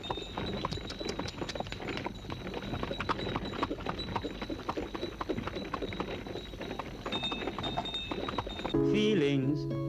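Horse hooves clip-clop in a quick, steady rhythm for most of the span, fairly close, ending with a burst of music.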